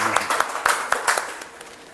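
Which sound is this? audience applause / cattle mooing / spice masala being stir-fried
audience applause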